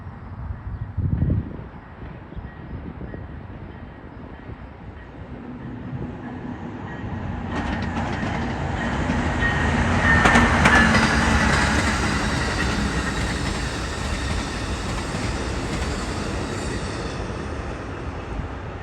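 An Amtrak passenger train led by a Charger locomotive passes, starting as a faint rumble and swelling into a loud, steady roar of wheels and rolling cars that peaks mid-pass and then holds as the train continues by.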